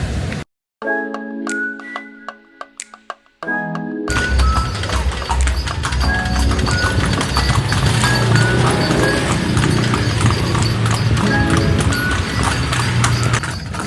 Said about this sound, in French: on a pris un petit tour là en cheval